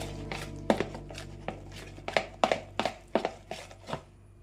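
Jalebi batter is stirred briskly in a bowl, with a quick run of about a dozen sharp knocking and slapping strokes, close and fairly loud, then stopping.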